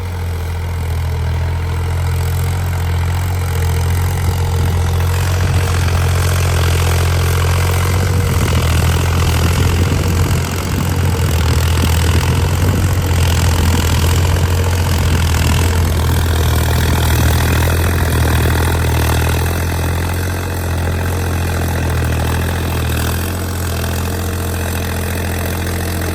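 A John Deere tractor engine idles nearby with a low, steady chugging rumble that holds constant throughout, no voices over it.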